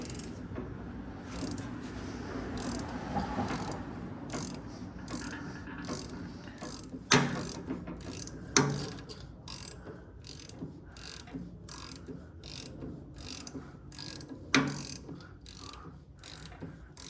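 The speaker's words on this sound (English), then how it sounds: "So grab my ratchet" A ratchet turns 11/16 bolts on a Ferguson tractor's three-point linkage, giving a rapid, steady clicking with a few sharper knocks, close but fairly quiet.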